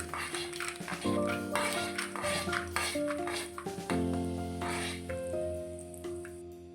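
Peanuts fry in a pan of popping mustard seeds and cumin, with steady sizzling, spatula scraping and clinks against the pan, under a faint background hum.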